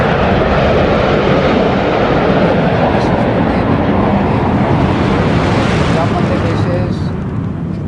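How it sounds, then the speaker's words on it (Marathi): MiG-29 jet aircraft flying in formation over Rajpath during a military parade in New Delhi, a loud, continuous roar with wind buffeting that thins out near the end. "MiG-29 विमानं आता जॅग्वारच्या पाठीमागे येत आहेत वेगळ्या फॉर्मेशन मध्ये"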